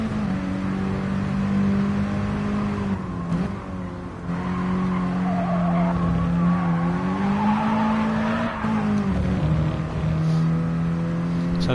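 A 220-horsepower racing car of just over a tonne in GT Sport drones loudly with its engine note wavering as it changes up, while wheel spin and tire squeal run through the steady roar.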